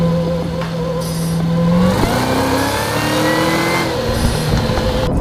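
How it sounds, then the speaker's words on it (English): A supercharged V8 engine heard from inside the car, revving in smooth rising sweeps with gear changes, loud and close, with a steady droning tone between pulls and no voices. "I'm still hearing a sweet V8 soundtrack behind me."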